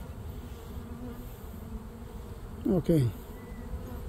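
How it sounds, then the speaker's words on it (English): A honey bee swarm drones steadily around a trap box, a dense, continuous buzz filling the whole stretch, with a brief spoken word near the end. "there's more bees following the queen scent now"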